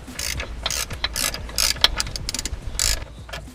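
A ratchet spins out engine mount bolts on a Honda Civic Type R, a quick run of close, crisp clicking bursts with short pauses between strokes.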